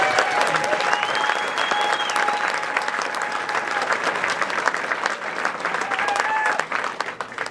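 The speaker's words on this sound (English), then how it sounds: "Please, let's have a nice round of applause" Audience applause at a standup comedy show, steady dense clapping that holds throughout and thins toward the end, with a faint voice partly audible underneath.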